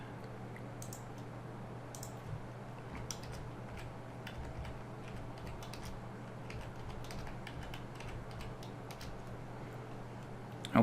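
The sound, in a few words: typing on a computer keyboard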